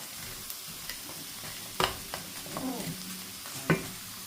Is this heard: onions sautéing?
yes